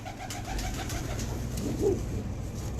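A khaki pigeon coos softly in a few low, repeated notes against a faint background hiss, with no one talking.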